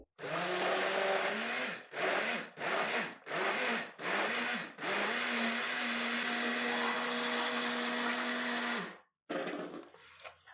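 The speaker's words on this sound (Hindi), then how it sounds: "अब हम जेली को भी ग्राइंड कर लेंगे।" A kitchen blender grinds jelly for a creamy ice cream dessert, its motor roaring loud and steady with several short pulsed bursts and stops before a long continuous run that cuts off near the end.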